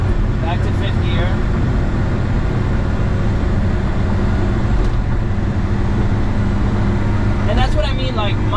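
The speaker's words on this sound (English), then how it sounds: "The engine feels fine. It doesn't sound too crazy." A Suzuki Carry kei truck's small engine drones steadily at constant revs in fifth gear on a highway, with road rumble inside the cab and faint chirps near the start and end.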